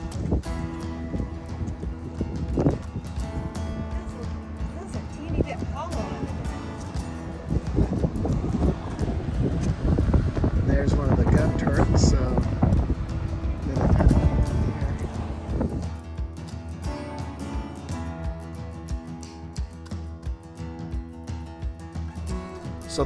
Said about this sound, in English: it's really difficult to make any kind of recording with that wind